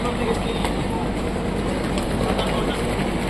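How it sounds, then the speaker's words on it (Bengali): The Darjeeling Mail pulls away in a dense, continuous rumble and rattle of rails and carriage heard from inside a coach, steady and loud throughout. "ট্রেন অলরেডি ছেড়ে দিয়েছে আমাদের গন্তব্যস্থলের দিকে"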